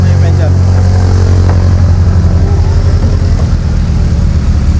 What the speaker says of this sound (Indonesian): Tuh turun aja belakang, kagak kuat tuh motor.